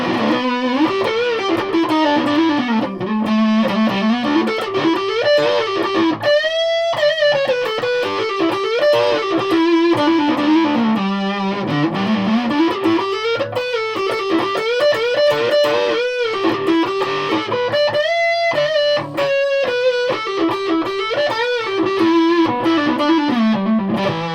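Heavily distorted electric guitar, a Fender Japan Stratocaster in triple humbucker mode, plays a continuous riff with bending lead notes and chugging chords, loud and up close.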